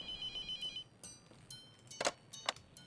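A telephone rings in a Halloween-themed video game, sounding as quiet electronic trilling bursts that repeat several times over a low background hum.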